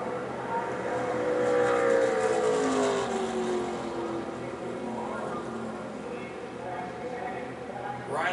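ARCA race cars roar past at Daytona, their engine notes sweeping down in pitch as they go by one after another, heard under ongoing race commentary.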